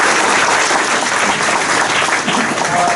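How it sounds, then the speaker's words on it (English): Audience applause at a December 2019 graduation training ceremony, a steady dense wash of clapping that fills the whole stretch at close, even loudness with no talk over it. "Can we give them a big round of applause?"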